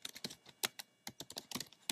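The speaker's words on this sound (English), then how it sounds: "So let's quickly go and type in the values." Fingers tap out quick, uneven runs of clicks on a computer keyboard while values are entered into a spreadsheet, close and fairly quiet, with short pauses between bursts.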